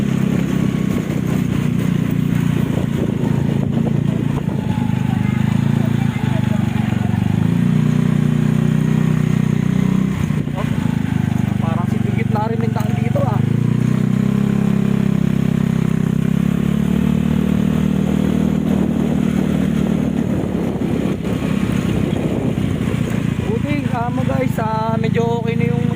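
A recently repaired motorcycle rides along roads in Bugallon, Pangasinan, its engine a steady low drone throughout, with small rises in pitch. A person talks over it most of the time.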